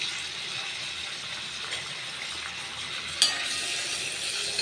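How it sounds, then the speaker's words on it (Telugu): Bitter gourd pieces fry in a pan with a steady close sizzle and a soft hiss of oil throughout, and one brief clink partway through. "ఇప్పుడు కాకరకాయ ముక్కలు వేసి వేయించుకుందాం"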